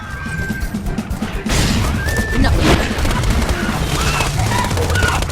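Gunfire in the video game Borderlands 2, rapid bursts of shots and impacts layered over game effects and music, loud and dense throughout, with a voice talking over parts of it.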